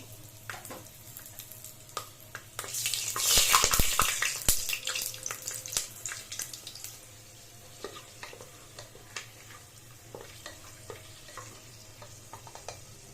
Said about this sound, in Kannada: ಈ ಹಂತಕ್ಕೆ ಎಣ್ಣೆ ಕಾದಿದೆ ಫ್ರೆಂಡ್ಸ್ ಸೊ ನಾನು ತೆಗೆದಿಟ್ಟರು ಸ್ಪೈಸಸ್ನ ಹಾಕ್ಕೋತಾ ಇದ್ದೀನಿ